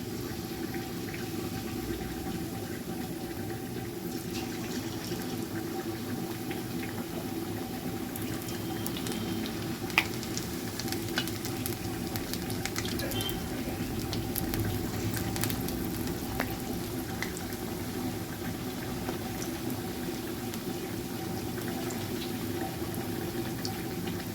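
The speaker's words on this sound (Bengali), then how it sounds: "আচ্ছা, এক এক করে বেসনে ডুবিয়ে ভেজে নিচ্ছে" Pumpkin pakoras dipped in besan batter fry in hot oil, a continuous even bubbling sizzle with occasional faint crackles and clicks, steady in loudness from start to finish.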